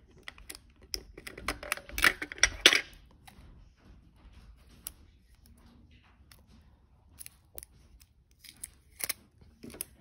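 Adhesive tape being torn and cut to hold a splint on a broken index finger, a cluster of sharp snipping and ripping sounds early, then sparse clicks and faint handling.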